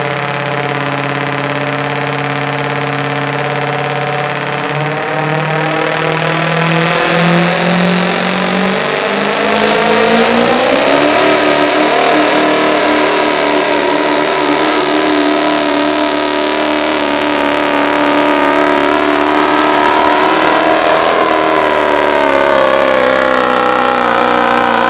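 A Ford diesel pulling truck, the Crybaby Maker, roars at a street truck pull, its engine rising from a throaty rumble into a loud, sustained high-revving howl that climbs and holds under full load for nearly half a minute.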